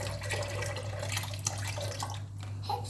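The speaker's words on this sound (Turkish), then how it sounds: "Bir sütümüzün tamamını dökelim. Yavaş yavaş aşağıdan aşağıdan etrafa sıçramasın" Milk is poured slowly into a pot while making cherry pudding, giving a quiet, steady liquid trickle with faint splashes and no speech.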